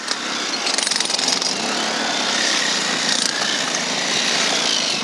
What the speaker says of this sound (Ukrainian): Тепер справа за відбійним молотком.